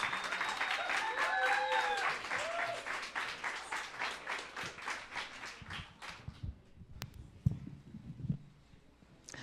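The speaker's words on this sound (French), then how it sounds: "Une bonne main d'applaudissements pour accueillir Marie-Lie, s'il vous plaît." An audience claps steadily at an evening talk on young mothers with traumatic histories, welcoming a speaker to the stage; the dense applause fades after about six seconds, leaving scattered claps and room noise.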